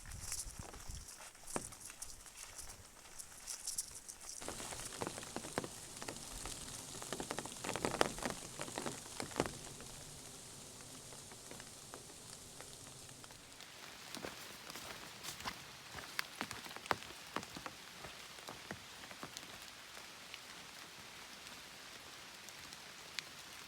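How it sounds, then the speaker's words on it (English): Steady rain patters on a foggy mountain trail in Shenandoah National Park, a soft, continuous hiss broken by scattered drips and crunching footsteps as someone hikes through it, with no talking. "it's been raining all day, still really foggy"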